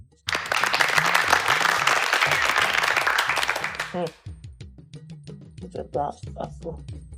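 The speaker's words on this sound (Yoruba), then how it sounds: "ẹ bá ń pàtẹ́wọ́ fún wọn." An audience at a Yoruba children's game show claps for the contestants. A dense burst of applause lasts about four seconds, then thins into scattered claps under talk.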